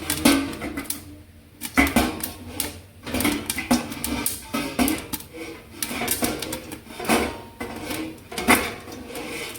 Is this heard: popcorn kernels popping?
yes